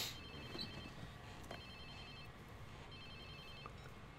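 A phone rings in the Watch Dogs 2 video game, a quiet repeating electronic trill in short bursts over a low background hum.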